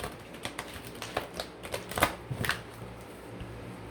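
Oracle cards handled and laid out during a tarot-style reading, a series of soft, quick papery flicks and taps, a few sharper ones near the middle, fairly close and quiet with no talk.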